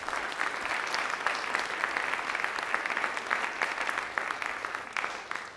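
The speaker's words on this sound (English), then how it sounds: "So if you guys want to give them a round of applause." Steady applause from a concert audience at a college spring brass band and contemporary ensemble performance, thanking the lights and sound helper; dense, even clapping holds for several seconds with no talk over it.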